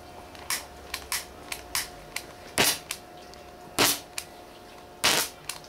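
Hydrogen flame popping through a hose from a homemade 60 plate generator: a series of sharp, close snaps, several smaller pops followed by three louder bangs spaced a second or so apart, with no talk.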